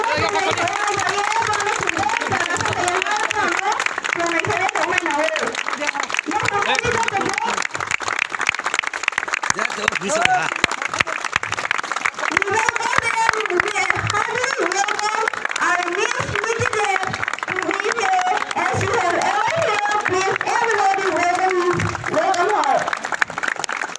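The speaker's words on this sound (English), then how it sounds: "Everybody, please give a big applause for thunder and applause." An audience applauds to welcome the chief guest at a community gathering, with continuous rapid clapping beneath a loud announcer urging the crowd on over a sound system.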